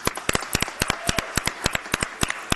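A small group at a town council meeting claps for the library staff, with sparse, irregular hand claps that are fairly quiet and close, without cheering.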